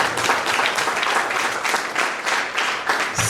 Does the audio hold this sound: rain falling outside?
no